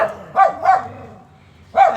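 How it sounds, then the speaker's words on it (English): Nearby collie shepherd dogs give three loud barks in quick succession, then a pause before a fourth bark, with faint whimpering between them. "These are rare dogs,"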